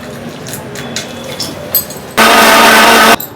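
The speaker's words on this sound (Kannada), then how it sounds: "ಸ್ವಲ್ಪ ನೀರು ಹಾಕೊಂತೀನಿ ಇದಕ್ಕೆ." Water poured into a cooking pan, a loud steady splashing rush lasting about a second near the end after quieter kitchen handling sounds.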